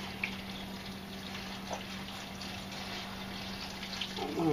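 Water poured over raisins and cranberries in a container for making cranberry wine, a steady soft trickling pour that swells slightly louder toward the end, with no voices.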